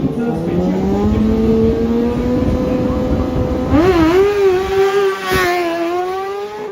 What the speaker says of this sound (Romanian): Ei bine, duce la limită această mașinuță